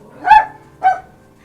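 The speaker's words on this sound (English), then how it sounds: "You just want to make her bark or what?" A dog barks twice indoors, two short, clear woofs about half a second apart. Both are close and fairly loud, with quiet room tone between them.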